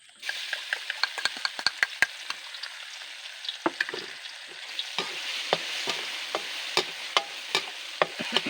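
Chilies sizzle as they fry in hot pork lard, with a steady frying hiss and repeated sharp pops and spatters, close and fairly loud, no talking.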